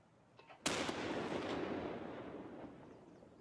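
A grenade explodes in Escape from Tarkov with one sudden loud blast, followed by a long rumbling, crackling decay that fades gradually over the next few seconds, with no voices.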